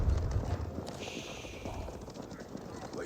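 Horse archers gallop in Age of Empires 4, a steady patter of hoofbeat clip-clop that fills the scene under a busy game mix, with a brief whinny-like tone partway through and spoken commentary over it.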